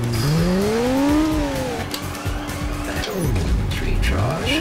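A car in the Sega Dreamcast game Headhunter revs and accelerates through turns, its engine pitch sweeping up and down with some tire squeal, loud and close, with someone talking over it.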